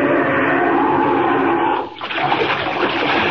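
A radio drama splash effect for a dive into icy Arctic water near a ship: a continuous loud rushing of water with a brief dip and then a renewed surge of churning spray.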